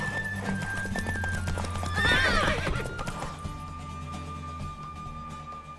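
Hooves clip-clop at a gallop while a horse lets out a loud, shrill neigh midway, followed by continued hoofbeats fading slightly, in the video game The Witcher 3.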